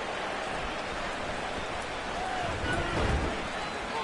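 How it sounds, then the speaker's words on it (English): Steady rain hisses across a football video game match, a dense, even wash of noise with a soft thud near the end. "The rain set to continue as we are underway in the second half."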